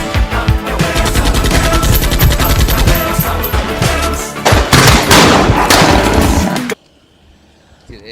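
A machine gun fires long, rapid bursts at close range, loud and harsh, with a short pause before another burst, then drops suddenly to near silence.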